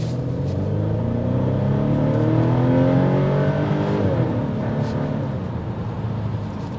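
A 2024 Volvo S60 Plus Black Edition accelerates hard on a test drive, its engine note heard from inside the cabin climbing steadily in pitch through the gears, loud and continuous with a brief shift dip midway.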